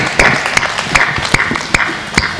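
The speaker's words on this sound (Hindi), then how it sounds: "एक बार ज़ोरदार तालियां बजाइए।" An audience at a Hindi poetry and song event gives a round of applause, with a steady wash of clapping broken by several sharp, louder claps at fairly regular intervals, close and fairly loud.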